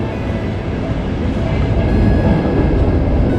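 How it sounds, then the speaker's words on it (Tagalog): A high-speed bullet train rumbles past nearby in Rome with steady, dense low-frequency roar and rolling noise, loud and continuous throughout. "Ayan yung bullet train."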